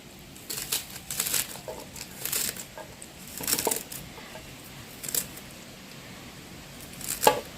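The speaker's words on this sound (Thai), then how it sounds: "แม่จะหั่นผักหอมลงใส่ค่ะ" Scattered crisp knife taps chopping dill on a cutting board, irregular and fairly quiet, a few quick strokes at a time against a soft background hiss.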